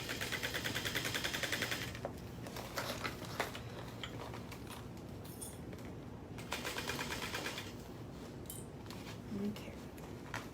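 A sewing machine stitches a seam during a live sew-along, its rapid mechanical run coming in bursts with pauses between, steady and fairly close, alongside faint handling noises.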